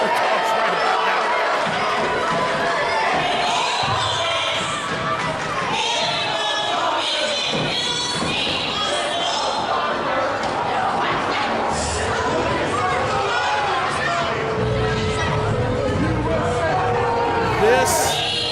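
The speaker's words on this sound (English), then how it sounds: "This crowd is showing you just exactly what they think of the Gordy Bulldogs right about now." A wrestling crowd reacts to the Gordy Bulldogs with steady loud crowd noise and jeering throughout, chatter and shouting woven in, and a few bursts of sharper cheers.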